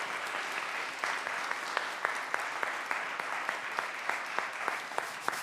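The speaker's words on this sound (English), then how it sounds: "please let's have a round of applause for Larissa and Michael" An audience claps for two guest speakers at the end of a talk, a steady, moderately quiet wash of applause with a few sharper individual claps standing out.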